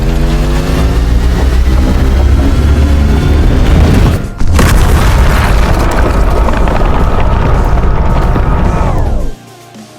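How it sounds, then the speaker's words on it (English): The God Laser attack of the Terraria mod boss Serous blasts as a loud, sustained roaring beam with a brief cut and burst midway, then roars on before dropping off abruptly. "Once Serous reaches low HP, it will unleash the infamous God Laser with the coolest sound effect."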